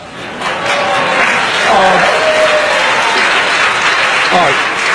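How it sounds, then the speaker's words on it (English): Political rally crowd applauding Bernie Sanders, a broad, steady wash of clapping that swells and holds for several seconds, with faint voices mixed in. "The whole crowd claps for him"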